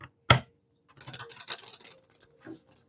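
A deck of tarot cards shuffled by hand, opening with a sharp snap followed by a second or so of quick, soft papery patter, then a brief faint rustle, with no talk.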